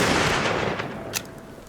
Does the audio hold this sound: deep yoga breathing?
no